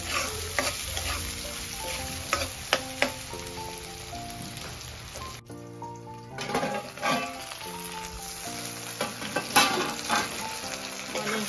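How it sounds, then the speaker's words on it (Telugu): Onions frying in a pan before okra goes in, a dense continuous sizzle with crackling pops and occasional spoon scrapes, close and fairly loud throughout. "ఆనియన్స్ కొంచెం ఫ్రై అయిన తర్వాత బెండకాయలు వేసుకోవాలి"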